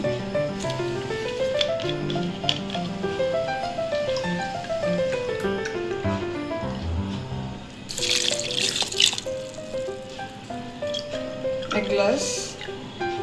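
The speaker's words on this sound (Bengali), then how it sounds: "দিয়ে দিচ্ছি পানি" Water pours into a blender jug already holding apple, milk and sugar, making brief splashing gushes partly masked by background music.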